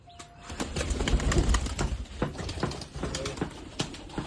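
Pigeons in a rooftop loft flap their wings in quick irregular bursts nearby, sharp clattering flutters scattered over a muffled background.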